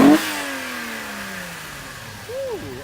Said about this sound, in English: I did not expect to hear that sound out of that engine